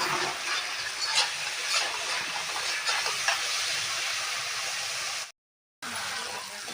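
Spice paste sizzles in hot oil in a pan for Bengali mutton curry with potatoes, a dense, steady hiss with faint crackles that cuts out briefly near the end and then resumes.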